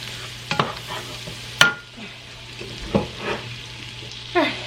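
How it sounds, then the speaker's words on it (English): Garlic frying in a hot pan, close by, with a low steady sizzle broken by a few sharp scrapes and clatters as it is stirred; no one speaks. "the garlic is burning"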